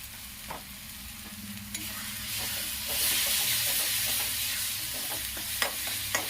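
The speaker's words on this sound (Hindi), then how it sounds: "इसे 1 मिनट भून लूंगी।" Ginger, garlic, coriander powder and Kashmiri red chilli sizzle and hiss in hot oil for chana dal, a loud, continuous frying sound with occasional stirring scrapes.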